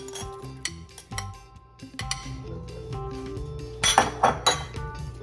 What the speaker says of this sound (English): We're gonna put the beans in.